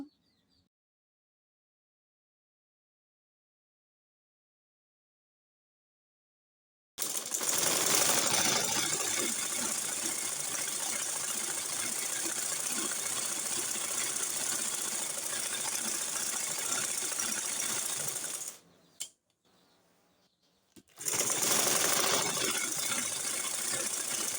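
A sewing machine runs in a long continuous stretch while stitching a sleeve seam on a maxi dress, a steady rattling whir close by, briefly pausing before resuming, after a silent start.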